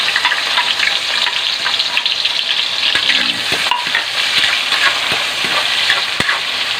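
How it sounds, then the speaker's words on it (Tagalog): Garlic, onion and tomato hiss and crackle steadily in a hot pot of oil, with scraping stirring strokes and occasional clinks of the utensil, close and loud throughout. "Meron tayong bawang, sibuyas, kamatis. Ilalagay ko na to."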